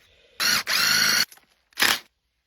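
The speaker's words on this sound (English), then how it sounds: "So now we got to drill holes in all these" Power drill boring holes in a set of matching pieces during an off-grid power system install, with two short whirring bursts, the first longer and briefly interrupted, followed by a quieter trailing rattle, close and loud.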